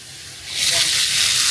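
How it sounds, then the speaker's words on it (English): Sauce for Thai cashew chicken hits a very hot wok and bursts into a loud, sharp sizzle that swells from a low background hiss to a bright, sustained crackle, close up. "You can see it immediately sizzle because it made direct contact with a really high heat surface of the wok."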